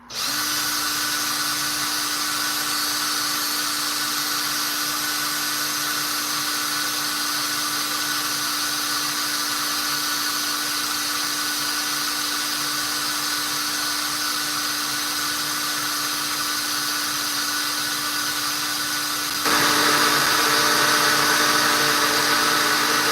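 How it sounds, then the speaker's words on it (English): A small rotary power tool spins steadily against the cut edge of a pure copper dragon ring, polishing it with a continuous high whine close up that shifts in tone near the end, with no talk. "We're going to go and start shining up that cut edge."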